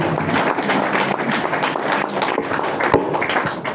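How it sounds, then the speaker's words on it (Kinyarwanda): A church congregation claps together in worship, a dense, sustained patter of many hands filling the whole stretch without a break, loud and close with no voices standing out above it. "Mukomere Imana amashyi menshi cyane"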